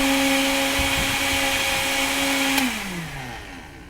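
An Omega B2100 1 HP blender whirs loud and steady on high with a green smoothie load, then winds down with a falling pitch near the end.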